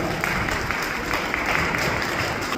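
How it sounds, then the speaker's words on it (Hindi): Sustained applause from an audience welcoming a guest at an Independence Day celebration, steady and dense clapping filling the whole stretch at moderate loudness. "जोरदार तालियों के साथ उनका स्वागत।"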